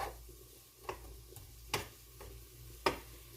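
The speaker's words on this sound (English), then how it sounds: "and that's stir frying" Food stir-frying in fatty grease in a pan, a faint steady sizzle broken by a few sharp utensil clacks against the pan at irregular intervals.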